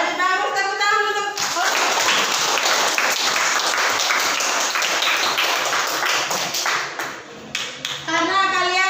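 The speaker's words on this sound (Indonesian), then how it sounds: "Jadi bagus tepuk tangan untuk" A classroom of students applauds the presenting group with a loud burst of close, rapid clapping that trails off, with children's voices speaking briefly before and after.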